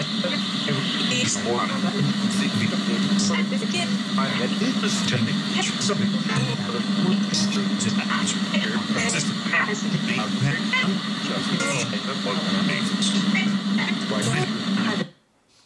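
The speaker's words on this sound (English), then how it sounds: "Just how it sounds with no white noise. Here's white noise." Dense, continuous static from a spirit radio hisses loudly with choppy fragments of scanning stations flickering through, then abruptly cuts off at the end.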